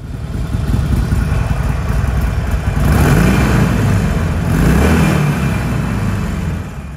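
A 2022 Harley-Davidson Sportster Iron 883 motorcycle engine runs steadily with a loud, close, lumpy rumble, swelling with throttle blips midway before settling back toward idle.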